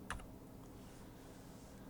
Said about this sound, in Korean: 프롬프트 다음부터 실행할 내용을 입력하고 키보드 엔터키를 누른다